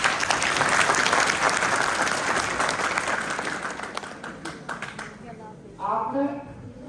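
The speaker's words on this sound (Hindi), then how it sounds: "तो जोर से ताली बजाइए" Audience applause in a college lecture hall: loud, sustained clapping from a crowd that gradually thins and fades, followed by a voice speaking briefly at the end.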